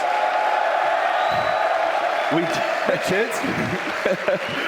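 Large crowd murmuring and cheering at a DreamHack Open Tours 2015 StarCraft 2 esports event, a steady roar filling the hall with a few whoops and claps rising near the end while a voice speaks over it.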